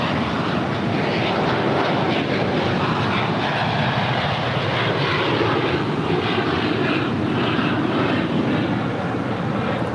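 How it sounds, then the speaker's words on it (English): A Bombardier Global 7500 business jet departs LAX with a loud, steady broadband engine roar that holds evenly throughout, with no talking. "785 off to Teterboro. It's a Bombardier Global 7500."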